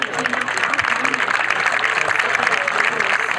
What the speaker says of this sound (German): Da braucht er schon mal einen herzlichen Applaus für das tolle Team.